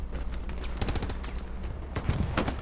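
Gunfire close by on Omaha Beach in a WWII video game, a series of sharp cracking shots in irregular clusters, some overlapping in quick bursts, loud and near with a low background rumble.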